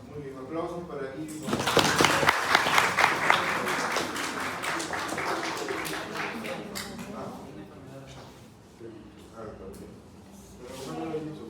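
A class applauds in a lecture room, a burst of clapping swelling for several seconds then thinning out, with a voice talking over the tail end.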